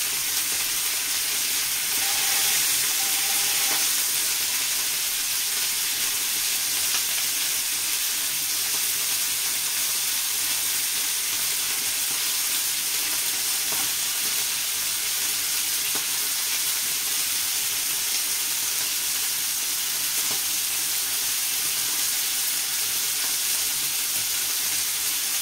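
Onions for smashburgers frying in a pan, a continuous even sizzle heard close and alone, with a few faint clinks and water-like sounds in the background.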